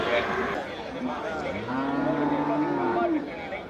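Cattle moo in a long, drawn-out low call amid a busy, noisy cattle market crowd in Melapalayam, with other animals and voices blending into the background.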